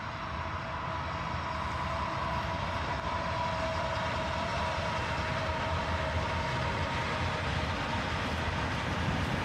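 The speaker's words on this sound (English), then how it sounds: "catch this Norfolk Southern train coming through town" A Norfolk Southern freight train rolls through downtown Dayton, Ohio, near 2nd Street Market, led by a GE ET44AH Tier 4 locomotive; a steady, continuous rumble of wheels and cars fills the whole stretch at a constant level.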